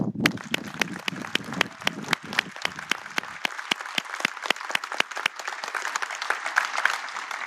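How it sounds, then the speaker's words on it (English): A crowd applauds the color guard and Navy band at the USNS Balboa naming ceremony at Naval Medical Center San Diego. Sharp, close claps stand out rhythmically over a softer, sustained spread of clapping. "Please join me too in a round of applause for our color guard and the Navy band."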